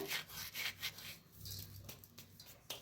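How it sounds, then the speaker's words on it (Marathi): Carom seeds rubbed between the palms and dropped into a methi dhapata batter of onion, garlic and green chilli, giving soft, close dry rustling strokes in a few repeated bursts, alone without talk. "तिळ ओवा टाकायचा जरा हातावर असं घासून घ्यायचं"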